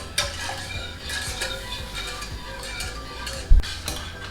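A utensil stirs a roux and milk sauce in a pot for lasagna, making repeated scraping clinks against the metal, with one louder knock near the end.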